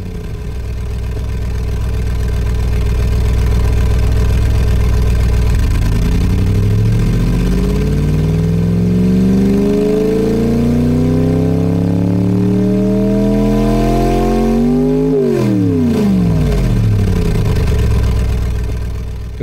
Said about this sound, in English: I can open or close the throttle, which of course causes the engine to change speeds